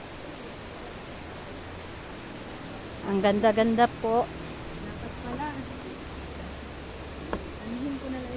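Water flows at Magbais, a steady, continuous rushing hiss throughout, with a voice speaking briefly over it near the middle.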